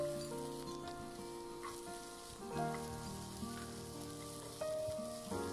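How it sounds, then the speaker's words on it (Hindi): Potatoes fry in oil in a kadhai for a cabbage and potato sabzi, giving a steady, close sizzle that runs throughout, with sustained tones layered over it. "अब हम आलू को इसी ऑयल में फ्राई कर लेंगे।"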